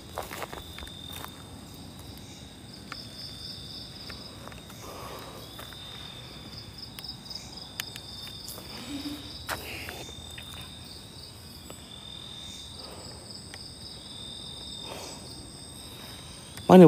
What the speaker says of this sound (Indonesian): Apa bunyi macam lalat eh?